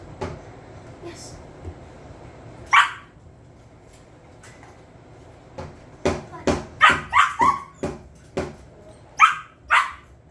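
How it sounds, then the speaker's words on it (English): A nine-week-old puppy in a beginner training session yaps and barks in short bursts, several sharp yips clustered toward the end, with a quieter bark earlier and low background noise. "you can hear the other pup"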